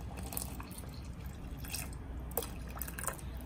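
Water poured into a pot of Mysore rasam during home cooking, with faint drips and trickling splashes, a few brief louder pours over a quiet kitchen background.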